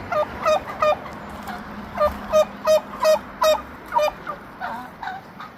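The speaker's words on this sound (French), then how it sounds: "Des oiseaux assez spéciaux" Large farm birds, probably turkeys, seen by a hiker on the Appalachian Trail, gobble and honk in a rapid series of nasal bursts. The calls come close and clear over a low rumbling background.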